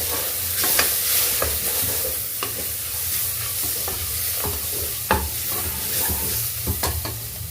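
Biryani powder and garam masala sizzle in hot oil in a pan for soya chunk biryani, with steady frying and repeated scraping stir strokes close by and no talking.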